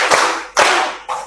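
A class of primary school children clapping in unison, three sharp group claps spaced about half a second apart, close and loud in a classroom.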